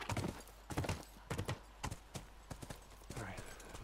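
Horse hooves clip-clopping in the video game The Last of Us Part II, a run of sharp, fairly close hoof strikes in an uneven rhythm with game ambience underneath.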